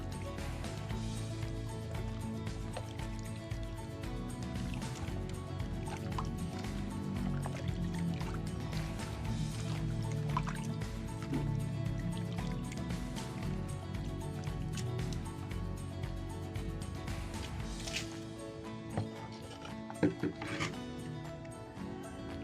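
Homemade organic liquid fertilizer of fish and papaya in water is stirred by hand, giving a steady wet sloshing and gurgling with faint drips, close up and continuous throughout.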